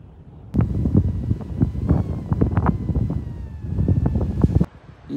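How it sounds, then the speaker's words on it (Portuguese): Strong wind in Patagonia, Argentina, buffets a parked car, and gusty roaring rumbles and thumps against the body and microphone in irregular surges for about four seconds before dropping away. "O vento tá tão forte que tá mexendo até o carro"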